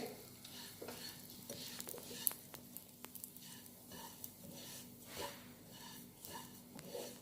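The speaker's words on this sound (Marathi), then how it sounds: "आता मोहरीची जी डाळ घेतलेली आहे तीही थोडी गरम करायची आहे" Split mustard seeds, dry-heated in a pan while a Konkan-style baby raw mango pickle is being made, give a soft, steady scraping of stirring with faint light crackles. The sound is quiet and close, with no talking.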